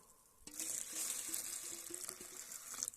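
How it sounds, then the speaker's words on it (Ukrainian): Warm water gushes from a tap or jug over wheat grains being soaked for sprouting, a steady close-up pour with faint clinks of grain shifting in the container. "І зараз залию теплою водою, такою тепленькою, щоб пшениця покрилася там на пів сантиметра"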